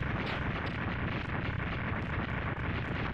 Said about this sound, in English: I guess they made the explosions take longer for no reason.